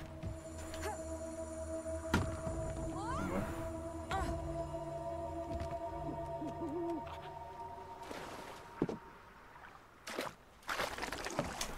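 Owl hoots from the video game Never Alone: Fox Tales sound over layered ambient game music and hum, with scattered clicks and water-like swells; no talking.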